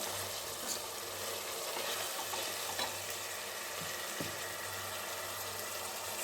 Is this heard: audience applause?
no